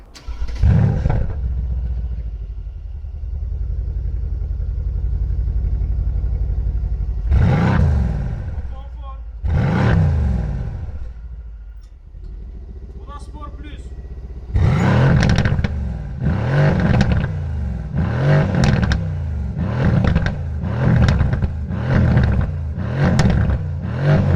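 A Mercedes-AMG C63 S on its stock exhaust idles with a deep rumble, then gives a few single revs and a quick run of repeated sharp throttle blips, loud and close.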